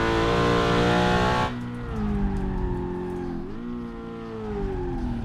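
A racing car engine roars loudly in a video game at the Nürburgring, then drops to a lower, steadier drone that rises and falls in pitch as the car brakes and accelerates.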